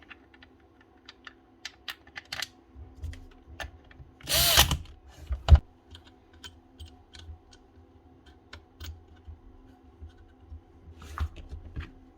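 Assembling a Makita power tool housing on a repair bench: scattered small clicks and ticks of screws and plastic parts, a short buzzing burst of a driver running a screw in, then more light handling taps, close and fairly quiet.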